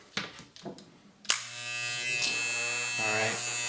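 A Styliner II hair trimmer, freshly zero-gapped, switches on after a few handling clicks and runs with a steady close electric buzz and hum, wavering slightly near the end.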